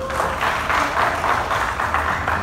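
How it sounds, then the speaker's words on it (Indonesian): An audience at a student gathering applauds the finalists, producing a full wash of clapping that swells and eases in a loose pulsing rhythm. "Tepuk tangan buat kalian semua finalis"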